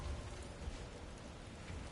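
Steady, dense rain hiss with low rumbling underneath, a continuous desert storm wash in the video game God of War Ragnarök, with no voices.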